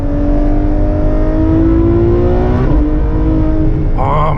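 A Ferrari engine revs high and climbs through the rev range, a loud, steady, rising whine from close range before it drops off sharply near the end.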